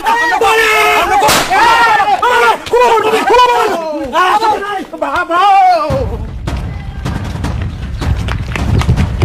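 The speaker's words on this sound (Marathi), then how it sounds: "रामभाऊ तुम्हाला माहित नाही बंदूक चालवायची." Loud bursts of gunfire in a Marathi comedy skit, coming after a stretch of close speech and then rolling on as a harsh, noisy crackle for the last few seconds.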